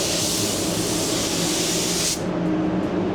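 An Avalon A60 spray gun sprays steadily at 28 PSI, a loud continuous hiss that holds for about two seconds and then cuts off, leaving only a fainter background noise.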